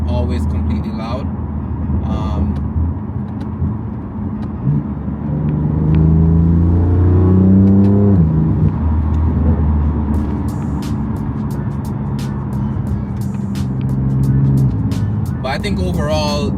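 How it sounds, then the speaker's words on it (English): A BMW M4 Competition with a Dinan exhaust gives a deep-toned rev and rumble under steady talk, with a louder swell midway before settling back to a low drone. "after hearing the exhaust, it doesn't really have a lot of rasp. It just has that deep tone to it"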